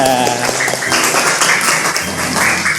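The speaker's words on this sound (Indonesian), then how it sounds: "Tepuk tangan dulu dong." A classroom of children claps together, a dense scattered patter with voices and chatter mixed in throughout.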